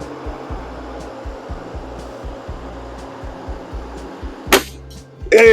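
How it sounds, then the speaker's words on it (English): A Webley Longbow air rifle fires one shot at a 55-yard target, a sharp, close crack near the end, followed by a louder burst of movement and noise. "All right, last shot. Half inch, 55 yards, extreme right hand target."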